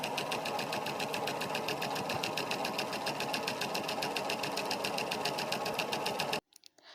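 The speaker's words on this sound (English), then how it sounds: "So you just take it to your machine and neatly hem on both sides." A sewing machine hems the side edges of a rectangular cocoon jacket, running in a fast, even, rhythmic clatter close by for several seconds before stopping abruptly, followed by a few small handling clicks.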